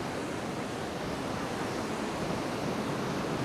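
Rough sea surf at Paguera, Mallorca, a dense continuous roar of breaking waves with wind noise mixed in, loud and unbroken, with no voices.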